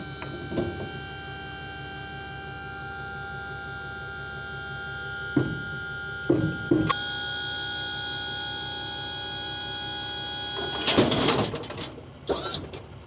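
A tractor with a bale bed and pallet puller hoists a tub on a farm, its hydraulics whining in a steady tonal drone, broken by several metallic clunks and a rattling burst near the end.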